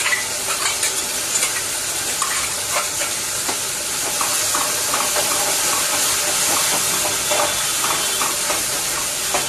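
Ground masala paste sautéing in a hot pan, a dense continuous sizzle and crackle with scattered stirring scrapes, close and fairly loud with no voices.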